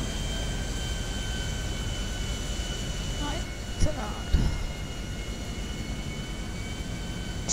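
An airplane roars steadily in the video game Grand Theft Auto V, a constant broadband engine drone with a couple of brief thumps partway through.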